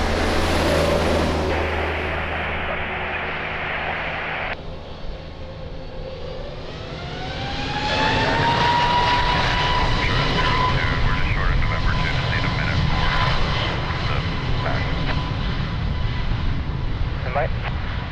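A jet airliner takes off from runway 02 at Lisbon Airport, its engine roar building steadily and loud with a rising whine, while radio chatter plays over it.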